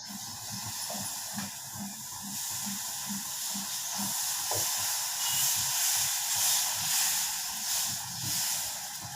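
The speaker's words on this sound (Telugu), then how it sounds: "పెద్ద దోశ వేసాను" A large dosa cooks on a hot pan with a steady hiss and sizzle and faint low thuds under it.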